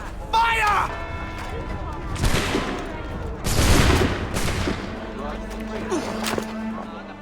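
In the Assassin's Creed III video game, a volley of musket gunfire erupts as a few loud, ragged bursts of overlapping shots, with shouting voices in the mix and a low hum after.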